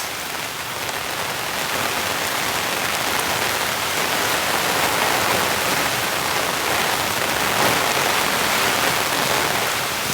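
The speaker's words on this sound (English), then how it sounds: "It's absolutely chucking down with rain." Heavy rain pouring down in a dense, constant roar of hissing drops, loud and unbroken throughout with no voices.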